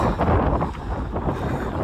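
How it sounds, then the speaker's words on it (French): Steady wind buffets the microphone outdoors, a continuous rumbling roar close up with no break across the short stretch, heard while riding out on a motorcycle. "Même s'il y a un petit peu de vent"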